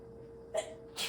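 A single close sneeze: a quick sharp intake followed by a breathy burst, over a faint steady hum.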